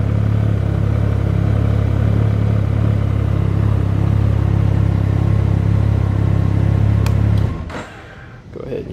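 The 900 ACE engine of a 2019 Can-Am Ryker three-wheeler idles with a loud, steady low rumble and hum close by, then is cut off abruptly near the end, leaving quieter clatter.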